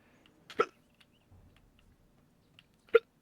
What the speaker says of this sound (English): So, I got hiccups.